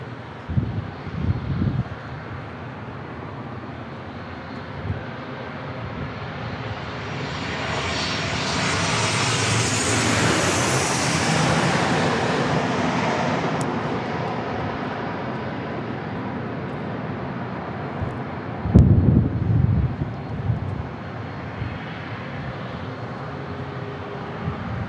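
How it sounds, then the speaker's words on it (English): An Osprey tiltrotor passes at San Diego International Airport, its engine and propeller roar swelling steadily to a loud peak overhead and then fading, with a brief thump and wind buffeting on the microphone near the end. "Hey, look, we've got the Osprey as well."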